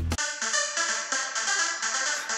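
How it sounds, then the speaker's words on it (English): A bright Super Saw Lead synth patch in GarageBand plays a sustained, buzzy melodic line of several rhythmic notes, loud and alone with no voices. "It's a Super Saw Lead."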